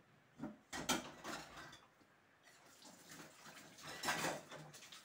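Dishes being washed at a home kitchen sink, with intermittent clinks of plates and splashes of running water at close range, a few louder bursts of clatter and rinsing across the span.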